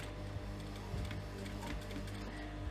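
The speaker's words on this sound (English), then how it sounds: "and now I'm just going to top stitch" A sewing machine runs a line of top stitching on a fabric clutch purse, a steady, fast mechanical whirr with a faint rapid ticking, close and continuous with no talking.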